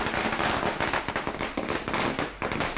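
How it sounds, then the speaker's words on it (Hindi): Congress party workers set off a celebratory string of firecrackers in Uttarakhand, producing a rapid, loud, continuous crackling burst of pops throughout. "कांग्रेस कार्यकर्ताओं ने आतिशबाजी की है"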